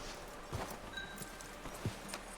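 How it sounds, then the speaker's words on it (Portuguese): Horse hooves clip-clop in the video game Red Dead Redemption 2 as a handful of soft, uneven steps, faint and fairly close, over a quiet background. "para, cavalo! Meu cavalo deu a louca."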